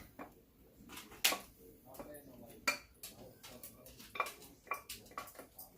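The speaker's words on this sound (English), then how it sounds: "I'm gonna put my rice up in here." Rice going into a pot while dog food is made at home: sharp metallic clanks and clinks of a pot and utensils, irregular and close, with quiet bits of talk between.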